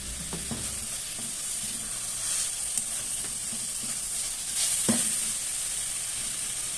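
Food sizzles in a hot pan while a spoon keeps breaking it apart and stirring, making a bright continuous hiss with a few scraping knocks of utensil on metal, close up and without speech.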